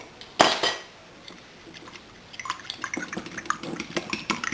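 Wet ingredients with vanilla extract being blended in a bowl for quick bread, beginning with one loud clatter and then a run of quick light clinks and taps of a utensil against the bowl, close up with no voices.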